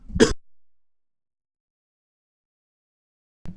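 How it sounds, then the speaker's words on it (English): A single short, close throat clear at the start, then near silence, with another brief sound starting right at the end. "Clearing my throat here."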